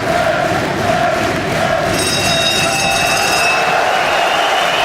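A boxing match crowd roars and cheers in a dense, sustained wash of noise, loud and steady throughout, with a high whistling tone cutting in partway through.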